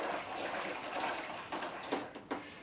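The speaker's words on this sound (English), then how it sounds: "And then you can add your water." Warm water poured from a tap into a tub of dish soap to make suds, a steady close gushing splash with a few sloshing bursts near the end, no talking.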